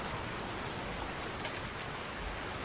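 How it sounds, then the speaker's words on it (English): Steady rain falls in a farming video game set in Indiana, a dense, even hiss of drops hitting surfaces that fills the whole span without a break, with no talk over it. "we'll get out and stand in the rain and kind of enjoy ourselves a little bit."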